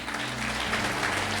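Steady applause from a crowd, continuous clapping filling the room without a break.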